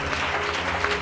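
A church congregation claps hands together in a dense, continuous burst of applause with a low hum beneath, steady and close throughout the short moment.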